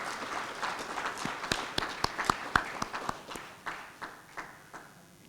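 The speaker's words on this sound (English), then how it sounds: "Let's give them a round of applause." Applause at a Kenya–Tanzania MoU signing ceremony as ministers exchange the signed instruments. Scattered, sparse claps from a small group in a room, distinct individual hand strikes that thin out and fade toward the end.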